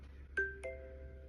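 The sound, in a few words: iOS 17 Milestone text tone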